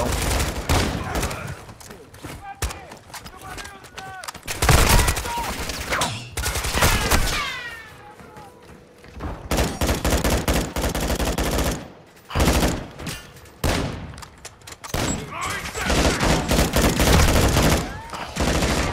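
Call of Duty gunfire on the Al Mazrah map: dense rapid bursts and volleys of automatic fire, some loud and close and some distant, broken by short lulls and a blast that could be an RPG, with no voices.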